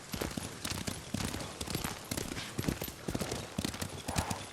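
In the video game Ghost of Tsushima, rapid, rhythmic clip-clop of horse hooves at a gallop while riding, continuous and fairly close, with a busy background.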